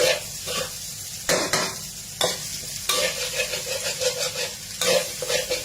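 Egg fried rice is stir-fried in a pan, with repeated scraping and clanking strokes of a spatula over a continuous close sizzle, rhythmic and fairly loud, with no voices.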